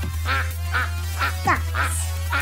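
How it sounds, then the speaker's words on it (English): Ducks quack in a quick series of about six nasal calls, evenly spaced and fairly close, over a steady low hum. "Ducks."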